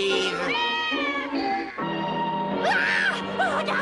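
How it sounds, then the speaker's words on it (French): A black cat in a Popeye cartoon meows repeatedly, loud and close, with drawn-out wavering cries rising and falling one after another and no talking. "Ah, regarde, un chat noir."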